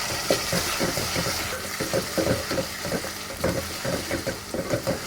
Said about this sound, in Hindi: इसके अंदर अदरक लहसुन का पेस्ट डाल दूंगी, 1 टेबलस्पून इसका अदरक लहसुन का पेस्ट। इनकी भी हम भुनाई कर लेंगे।